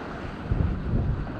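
Wind rushing past a sailboat under sail on a downwind run in the Gulf of Locri, a short burst of low buffeting gusts that swells slightly midway, close to the microphone with no talk.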